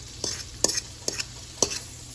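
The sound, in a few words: sautéing in butter and leftover meatball oil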